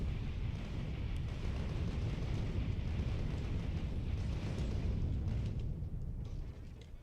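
Artillery bombards enemy nests in the Factorio video game, a continuous rumbling barrage of booms and blasts that stays loud and dense before easing off at the very end.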